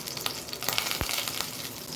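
Mustard seeds and cumin sizzle and crackle in hot oil, a close, steady frying hiss broken by a few sharp pops.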